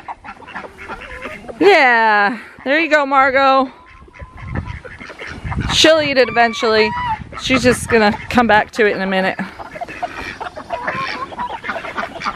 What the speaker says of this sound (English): Over here to these free-range ducks.